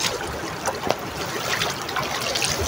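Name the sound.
river water trickling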